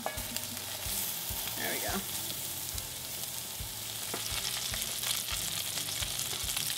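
Salisbury steak patties sizzle steadily in hot oil in a pan, a dense continuous frying hiss with a few soft scrapes and clunks as patties are flipped, and a brief spoken remark early on.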